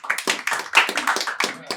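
Audience at a Telugu stand-up comedy show clapping in short, uneven bursts of applause, fairly close and lively, with a few scattered hand claps between.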